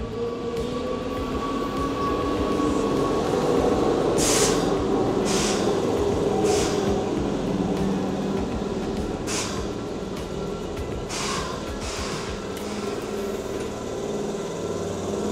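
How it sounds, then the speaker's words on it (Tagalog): A Keihan Line local train in Japan rumbles past steadily and loudly, with a continuous wheel roar and a series of rhythmic clacks and bumps over rail joints, with no talking. "may train tayo guys sa yung local train. Keihan line naman."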